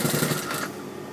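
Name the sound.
sewing machine stitching piping cord close to the edge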